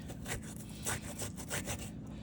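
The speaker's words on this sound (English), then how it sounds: "I usually use about 1 inch of ginger, and I will zest it." Fresh ginger, about an inch of root, scraped against a fine zester in a home kitchen, giving quick repeated rasping strokes in a steady rhythm, close and moderately loud with no talking.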